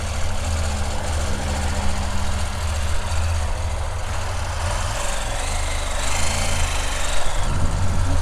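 A CFMoto 800MT motorcycle with a KTM 790 engine and a non-stock muffler idles close by, a steady deep low throb with a slight uneven pulse, rising a little in loudness near the end.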